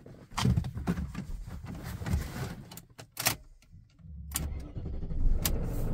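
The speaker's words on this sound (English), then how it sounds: "And it starts the car." BMW car started with a newly programmed key: door and interior clunks and a whirring electric window motor, then the starter cranks and the engine catches into a steady close idle.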